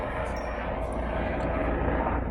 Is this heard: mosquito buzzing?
no